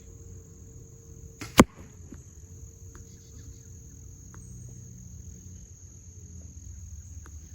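A single sharp arrow release from a Bear THP Adapt compound bow, shot outdoors past a phone, snaps out once as a loud crack over faint insect chirping and a steady high background tone.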